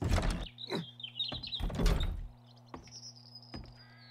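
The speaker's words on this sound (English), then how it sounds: "Zombie bird." Zombie bird in the 7 Days to Die survival game, a series of harsh squawking caws with thin rising shrieks between them, repeated several times over a steady low electronic hum.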